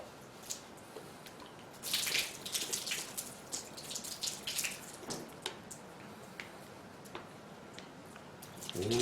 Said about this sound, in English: So we're just going to do it out here in the shop with a bottle of water.